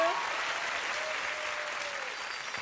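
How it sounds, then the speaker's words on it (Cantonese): At the 2019 Miss Hong Kong pageant final, an audience claps steadily for a contestant, a sustained wash of applause that fades slightly toward the end. "俾啲掌聲"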